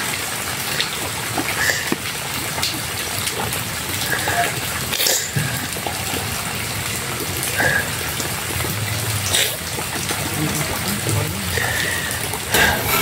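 Steady rushing flood water flows continuously with trickling and splashing, a constant close wash of sound.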